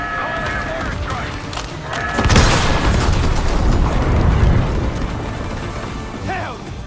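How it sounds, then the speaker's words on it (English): Mortar strike explosions boom and crash in the Black Ops 6 video game, a heavy blast erupting midway and rumbling for a couple of seconds amid game sounds and radio chatter. "Calling a mortar strike."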